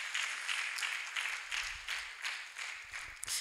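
Church congregation clapping together in a steady, sustained burst of applause, fairly loud and continuous, with a few louder claps near the end.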